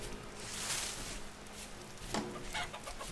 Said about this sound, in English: Man, there's lots of chickens over here.